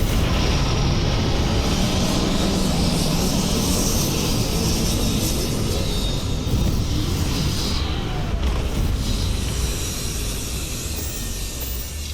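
A spaceship in the game Starfield sets down on a landing site, a steady, loud engine roar with broad rumble that holds constant throughout and eases slightly near the end, with no voices.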